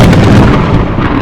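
Loud, deep rolling thunder in a haunted museum at night, a heavy rumble that fades out over about a second.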